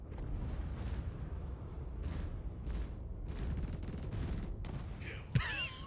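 Spaceship cannons fire in the Star Citizen video game, heavy booming bursts repeating every second or so at moderate loudness, with a whooshing sweep near the end.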